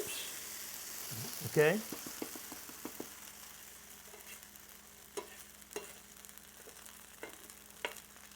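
An okonomiyaki pancake sizzles steadily in a pan as it is flipped, with a soft thump and clatter, a scattering of light clicks and scrapes afterward, and a person speaking briefly.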